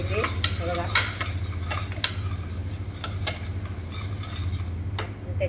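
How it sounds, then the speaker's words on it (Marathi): A spoon stirs a salted spice mixture in a pan for a spinach and potato curry, with repeated close scrapes and taps against the pan over a light sizzle and low hum. "आणि हे सगळं मी ढवळते,"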